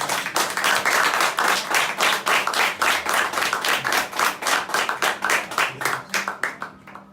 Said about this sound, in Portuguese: palmas para Jesus bem forte.